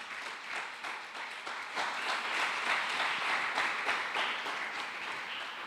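A church congregation applauds steadily for several seconds, a dense wash of clapping with a few audible individual claps, swelling slightly midway.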